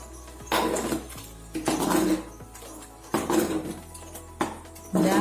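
Vegetable sambar is mixed in a pot with ground masala and a little water, four separate bursts of scraping and clattering strokes with short pauses between them, fairly close, with a faint steady hum underneath.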